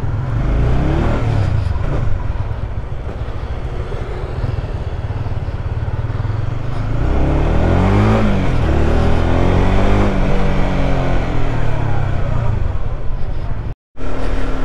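A Honda CBR150R motorcycle engine runs steadily and loud on a first ride, its drone rising and falling as the rider revs through the gears, with wind noise throughout and a brief cutout near the end.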